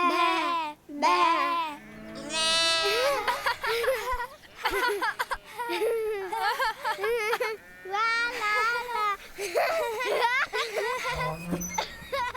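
A person imitates a sheep's bleat with a wavering, high voice, surrounded by animated talking and playful vocal sounds.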